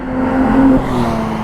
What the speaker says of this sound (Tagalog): Porsche.